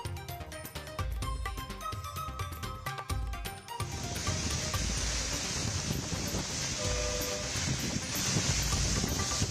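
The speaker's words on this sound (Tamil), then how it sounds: "தலைநகர் டெல்லியில் பலத்த காற்றுடன் கொட்டிய கனமழை." Strong wind with heavy rain in Delhi, a dense roaring hiss of downpour and gusts that thickens and grows louder partway through, with traffic or music-like noise underneath at first.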